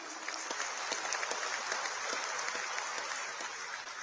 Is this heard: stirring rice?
no